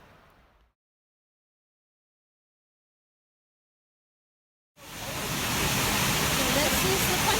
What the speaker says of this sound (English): And the creek is way down there.